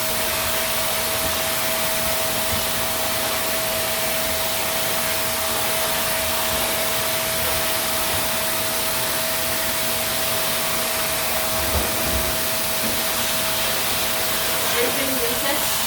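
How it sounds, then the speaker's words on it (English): A vacuum cleaner runs loudly and continuously, a steady roaring hiss with a constant motor whine throughout. "Now we have to vacuum"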